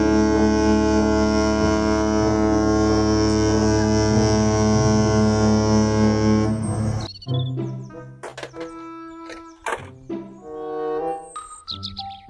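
A loud, sustained toy horn blares for several seconds, then cuts off into a string of short electronic tones and chirps.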